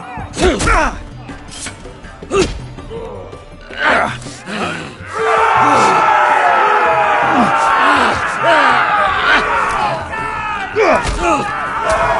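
Arena crowd in Game of Thrones roaring and cheering, a loud sustained swell taking over after scattered shouts and thuds, with voices speaking over the noise.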